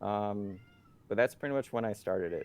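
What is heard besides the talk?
cat meowing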